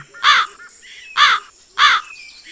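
A crow caws three times, loud and close, in evenly spaced harsh calls with short silences between them.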